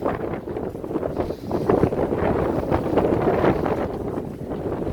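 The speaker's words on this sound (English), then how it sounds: "Oh, wind's picking up again." Strong outdoor wind buffets the microphone in continuous rumbling gusts, a loud, uneven roar that swells and eases with no other clear sounds.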